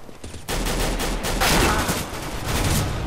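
Rapid bursts of gunfire from weapons in the game Counter-Strike: Global Offensive crackle loudly and continuously after a brief quieter lead-in, shots overlapping densely.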